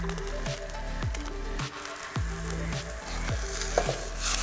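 A cheese quesadilla frying in a pan gives off a steady sizzle and crackle, with a tonal pattern repeating alongside it.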